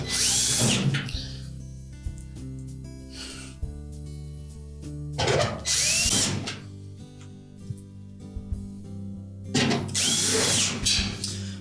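A power drill tightens the screws on a Whirlpool dryer's inlet duct during a seal replacement. There are three loud, close whirring bursts of about a second each, with a steady mechanical hum in the pauses between them.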